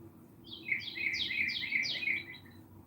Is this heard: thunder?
no